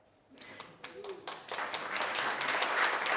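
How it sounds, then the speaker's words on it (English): Audience at a bus industry talk starting to applaud, scattered claps building into fuller, steadier clapping that grows louder toward the end, moderately distant in a hall. "don't applaud yet"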